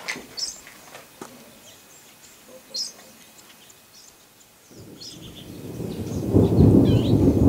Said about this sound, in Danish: Det er torden, man kan høre i baggrunden.